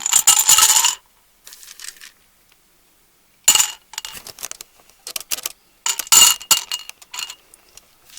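Small plastic crystals are tipped into a container in several bursts of bright clinking and rattling, with quiet pauses and a few lighter scattered clicks between the pours.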